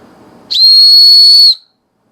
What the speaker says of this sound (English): Let's test out our whistle